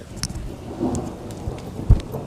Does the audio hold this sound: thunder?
yes